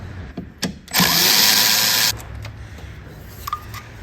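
A power tool whirs in a short, loud burst of about one second, working on a timing chain tensioner bolt of a Chevrolet Equinox 2.4 L engine, with quiet workshop clatter before and after.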